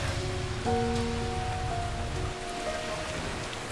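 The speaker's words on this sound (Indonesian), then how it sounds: "ini hujan kedelai" Steady rain falls, a dense, even hiss of drops on surfaces that stays fairly loud and unbroken throughout, with faint tonal hum lines underneath.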